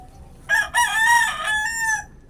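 Sweater gamecock rooster crows once, close and clear, a strained drawn-out call lasting about a second and a half over faint background hiss.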